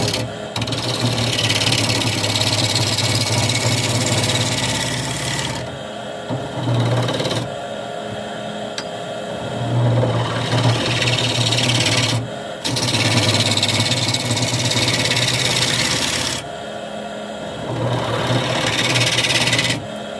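A 5/8 gouge cuts a piece of rotten scrap wood spinning on a lathe, giving a loud, steady rasping scrape in long continuous passes broken by brief pauses, with no talking.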